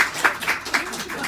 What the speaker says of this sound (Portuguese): Vamos aplaudir todo mundo, glória a Deus.